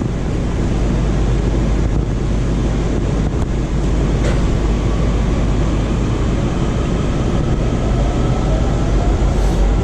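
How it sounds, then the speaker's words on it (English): A Washington Metro Kawasaki 7000-series Orange Line train rumbles steadily on the rails for the whole stretch, a loud, continuous low roar with a constant rushing hiss and no voices. "we're going to be taking this train all the way up to Vienna"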